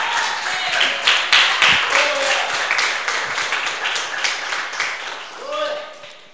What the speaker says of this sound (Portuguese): Uma linda salva de palmas para o Todo-Poderoso.